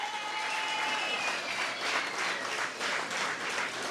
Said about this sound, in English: I want you to give them a special round of applause.